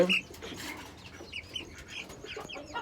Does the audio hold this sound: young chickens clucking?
yes